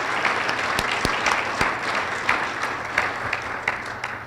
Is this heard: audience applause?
yes